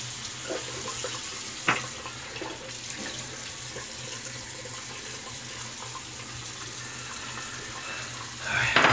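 Water runs steadily from a bathroom tap while a shaving brush is rinsed under it, a continuous close splashing hiss with a brief knock partway through and a louder surge of flow at the end.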